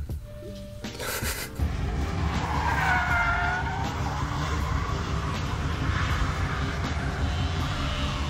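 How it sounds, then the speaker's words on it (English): A car spins out on a racing circuit during a C-Class session, its tires skidding and squealing before the engine roars steadily at full throttle to turn around, loud and close throughout. "This is my anger full throttle turnaround after I spin out."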